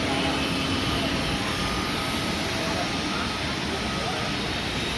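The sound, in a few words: airplane at Chennai Meenambakkam Airport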